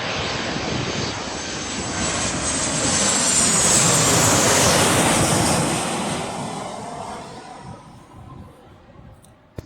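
An airplane comes in low and fast on approach to land, its engine roar swelling to a loud close peak before fading away, with wind buffeting throughout.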